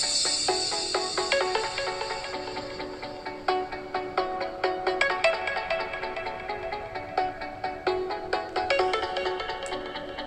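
Music with a steady rhythmic beat plays through the single bottom-firing speaker of an Honor Magic 2 phone, moderately loud and thin-sounding, continuous with no talking.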